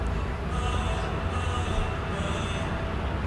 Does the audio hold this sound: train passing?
yes